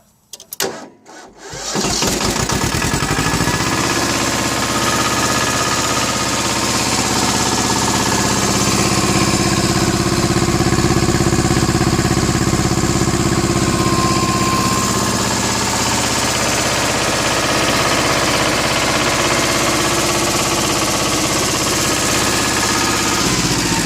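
A Yanmar YM1600 compact tractor engine cranks briefly, catches and then settles into a loud, steady diesel idle that runs on unchanged close by with no talk.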